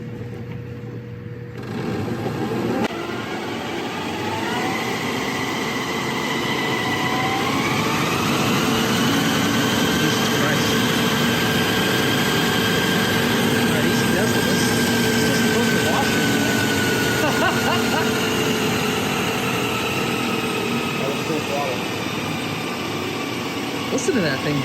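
The electric motor of a Harley Davidson electric motorcycle build spins with a steady whine that rises in pitch and then holds, accompanied by a loose belt and mechanical hum, close and continuous, with no voices.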